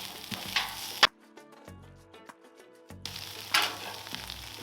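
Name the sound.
pulled pork sizzling on a Blackstone griddle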